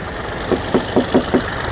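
A 2015 Mahindra TUV 300 T8 diesel engine idles, with five evenly spaced low knocking pulses over a steady rumble, close and fairly loud, no voices.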